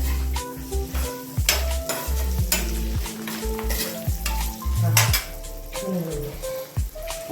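Paneer fries in a pan with a loud, close sizzle, broken by frequent scraping and clinking of a spatula against metal as it is stirred; no speech.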